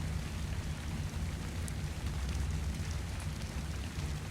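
Rain falls in Ark: The Island gameplay as a dense, continuous wash with a low rumble underneath, steady and enveloping, with no voices.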